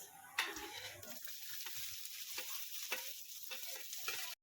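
Onion frying with crackling cumin seeds in a pan gives a soft, steady hiss with a few spoon scrapes and taps, quiet and close, no talk.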